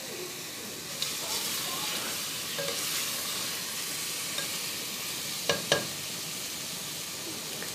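Chicken and potato curry sautés steadily in oil in a pressure cooker, a continuous close sizzle and hiss with a few sharp metallic clicks of stirring near the end.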